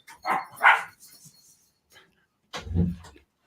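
A pair of dogs give two quick sharp barks close by, then after a pause one lower, fuller bark follows, with quiet room sound between.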